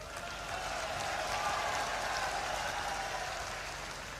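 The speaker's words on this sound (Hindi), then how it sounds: "आप ताली बजा रहे हो, मीडिया नहीं दिखाएगी।" A large crowd at a Congress party public meeting in Bhind, Madhya Pradesh claps in a steady, dense wash of applause that sounds quiet and distant and continues throughout.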